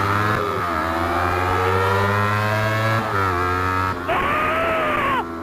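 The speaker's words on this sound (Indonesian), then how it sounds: "Gila, berisik banget motor lu bang" A Yamaha MT-25 motorcycle engine revs loudly and close by, holding a steady, harsh drone that dips briefly and then climbs again, with no voices over it.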